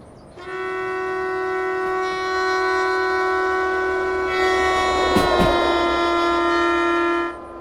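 A train horn in the Derail Valley simulator game blares steadily with layered harmonic tones, holding for several seconds before a brief rumble and Doppler pitch dip as it passes, then cutting off.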